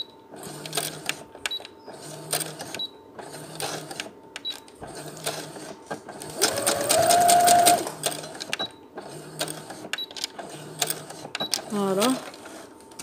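A sewing machine stitches a fabric face mask in quick repeating bursts of rattling needle strokes separated by brief pauses, with one longer run in the middle and faint talking now and then.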